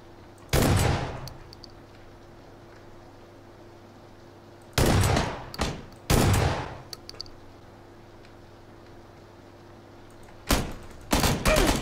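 Gunfire in PUBG Battlegrounds rings out in several loud separate bursts of rapid shots with short quiet gaps between them, alone with no talk.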